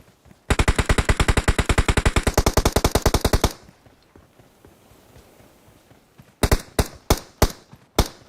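Rapid automatic gunfire from a PUBG Mobile match, a long dense burst of evenly spaced shots lasting about three seconds, then a pause and a few separate heavy single shots near the end; no talk.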